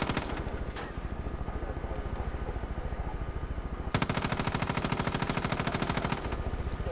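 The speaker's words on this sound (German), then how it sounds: "Der Scharfschütze schießt von hinter uns." Far Cry 5 co-op gunfire, with sniper fire among it: steady rapid rattling shots run throughout, then a louder, denser burst from about the four-second mark, with no talk over it.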